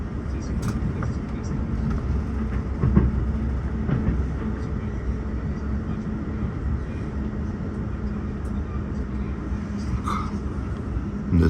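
Riding aboard an Amtrak Wolverine passenger train bound for Pontiac, Michigan, passing through Wayne: a steady low rumble of wheels on rails with occasional clicks and knocks, continuous throughout.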